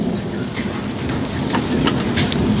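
Steady rain hisses outdoors beside a chicken coop and garden patch while a storm rolls through, with a soft low rumble of thunder underneath the constant patter.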